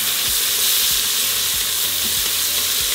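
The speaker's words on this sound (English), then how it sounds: "we're going to throw in our green chile and tomato" Green chile and tomato frying with onions in oil inside an Instant Pot, a steady bright sizzle with soft stirring scrapes and clicks of a utensil underneath.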